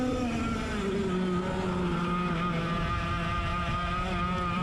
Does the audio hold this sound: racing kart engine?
yes